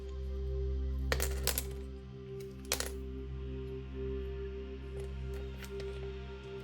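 Small hard objects, runes and dice, are cast onto a surface in two quick clattering bursts with a few fainter ticks after, all over a steady low background hum.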